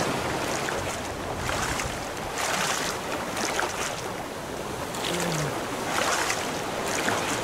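A raft paddled across open water in the survival game Raft, a continuous wash of lapping water and wind with faint rhythmic paddle swells, steady and moderately loud, no talk.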